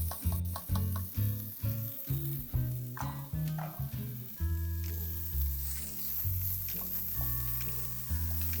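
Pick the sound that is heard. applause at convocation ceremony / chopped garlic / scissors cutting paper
chopped garlic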